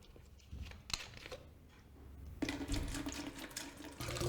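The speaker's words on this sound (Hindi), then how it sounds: "तो सबसे पहले इस कंटेनर में मैं डालती हूँ 1 लीटर पानी।" One litre of water is poured into a lidded kitchen container for a homemade bio cleanser, a soft steady splashing stream that starts partway through and continues to the end.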